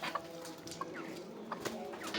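Chickens raised at home cluck in short, scattered calls as they gather for feed, fairly near but soft, with no talking over them.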